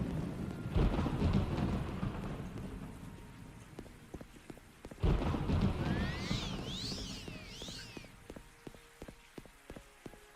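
Thunderstorm ambience in Morrowind: two heavy thunder rumbles roll in and fade over steady rain, with sharp patter and drips continuing between the cracks.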